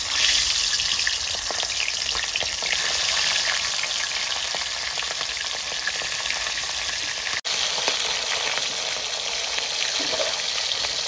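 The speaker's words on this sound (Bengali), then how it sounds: "তেলটা গরম হয়ে গেছে, আমি মাছগুলোকে ভেজে নেব।" Pieces of aila fish fry in hot mustard oil with a loud, steady, crackling sizzle that stops for an instant midway and then resumes.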